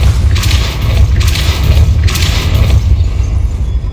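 The Depulso force spell fires in the Hogwarts Legacy video game as three quick whooshing blasts in a row, loud and close over a deep, constant rumble.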